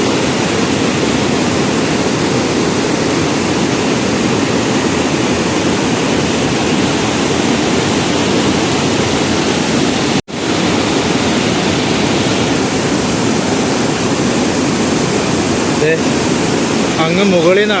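Athirappilly waterfall pours down from high above in a loud, steady roar of falling water that fills the whole scene evenly, with no break except one brief dropout.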